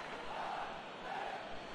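A stadium crowd roars and chants in the football game eFootball PES, a broad sustained wash of many voices rising in swells, steady and distant-sounding.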